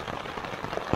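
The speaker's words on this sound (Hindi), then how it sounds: "गाइस अभी पूरी बारिश हो रही है, बहुत तेज बारिश हो रही है," Heavy rain pours steadily on a trek in Kinnaur, a dense, loud, even hiss of drops hitting surfaces close by, with no talk.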